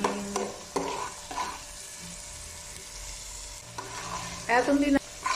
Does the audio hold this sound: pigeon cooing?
no